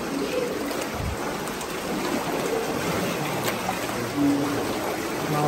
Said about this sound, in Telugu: లోపల ఒక వాటర్ ఫాల్ ఉంటుంది అంటే ఆ వాటర్ ఫాల్ లోపల నుంచి అంటే కేవ్స్ లోపల నుంచి బయటకు వస్తాయన్నమాట.